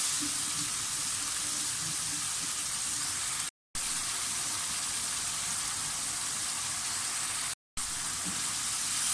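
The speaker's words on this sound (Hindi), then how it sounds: "मसाला हमारा अच्छी तरह से भुनना शुरू हो गया है।" Spice masala for masala bhindi fries in oil, giving a continuous close hissing sizzle that holds steady throughout, with two very short cuts of silence.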